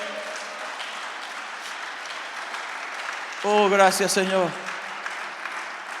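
A church congregation breaks into a short burst of applause for God. It starts mid-clip and lasts about a second, after a voice speaks over a noisy room.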